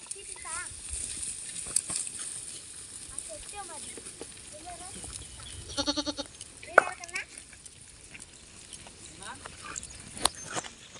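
Several goats bleat in short, wavering calls at varying distances while grazing outdoors, with louder cries clustered midway, over a faint background hiss and with people talking at times.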